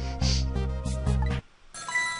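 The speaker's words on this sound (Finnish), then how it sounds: "Puhelin soi." Telephone ringing in the Ghost Trick video game: a tinny electronic ring tone repeats in bursts over low game music, breaks off briefly, then a brighter chime follows.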